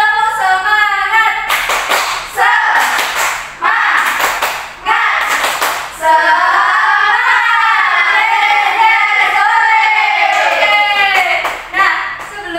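A classroom of students doing a rhythmic spirit clap in an Indonesian lesson, several bursts of patterned hand claps close by, with children's voices and chanting between and over the clapping.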